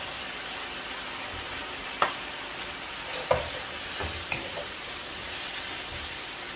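Beef frying in a pan for dry beef chilli, a steady soft sizzle with a few sharp stirring clicks and scrapes of the utensil against the pan, close and alone with no talk.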